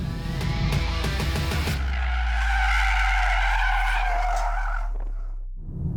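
Tires squeal loudly in a long continuous skid as a BMW M340i oversteers over its revving engine, fading out before a brief low rumble at the end.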